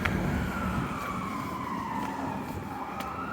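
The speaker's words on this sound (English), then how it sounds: "Something's on fire and I hear a fire truck." A fire truck siren wails on a city street in a residential neighbourhood, a sustained gliding tone heard at moderate distance over steady traffic and ambient noise, with no talking.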